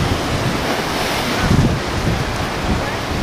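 Ocean surf at Coronado Beach roars steadily with broad wash and heavy wind buffeting the microphone, loud and continuous without a break.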